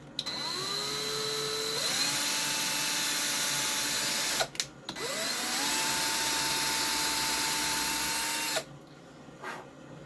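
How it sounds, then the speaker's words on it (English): A power drill whirs in two steady bursts of several seconds each, drilling pilot holes to mount a snare drum, its pitch climbing as the motor spins up, with brief pauses between. "we're going to go ahead and start by drilling pilot holes."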